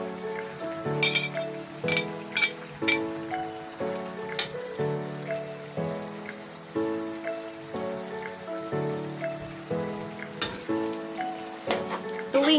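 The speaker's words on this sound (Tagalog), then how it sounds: "So ngayon, ihalo ko na yung malagkit." Glutinous rice for Negros-style Valenciana is stirred into a pan with liver, chicken and shrimp. A metal utensil clinks and scrapes in a steady rhythm over a soft crackling sizzle, close up, with no voices.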